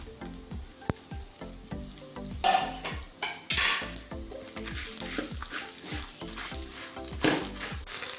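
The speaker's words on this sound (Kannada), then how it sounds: "ಸ್ವಲ್ಪ ಫ್ರೈ ಮಾಡ್ತೀವಿ" Spices and onions for a chicken and potato curry fry in a pan with a loud, steady sizzle, broken by repeated scraping stirs and spoon knocks up close; no voices.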